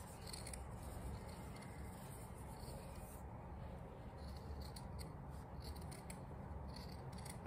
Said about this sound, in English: I'm gonna cut this out, making sure I cut through 2 layers just like I did with the arms and the legs.